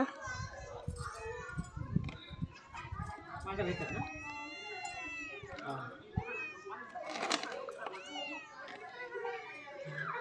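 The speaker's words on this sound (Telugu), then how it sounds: "పిల్లి" A cat meows repeatedly, close by, amid children's chatter and playful voices in the background.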